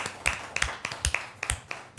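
Hand claps from a small audience, sharp separate slaps arriving in an irregular run of about nine across a couple of seconds, close and fairly crisp.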